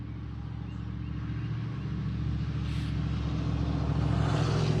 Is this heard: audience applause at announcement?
no